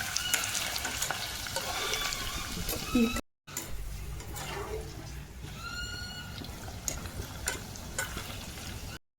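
Paneer cubes fry in a pan while a spoon stirs them, giving a soft continuous sizzle with scraping and clinking, fairly quiet and near, broken by a brief gap and faint talk nearby.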